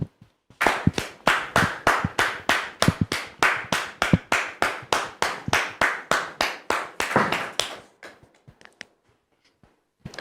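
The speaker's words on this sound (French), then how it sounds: "le pasteur Jean de Dieu, que nous recevons sous vos applaudissements" Studio audience applause at a televised talk show, heard as a steady run of loud, evenly spaced claps close to the microphone that lasts several seconds, then trails off into a few scattered claps.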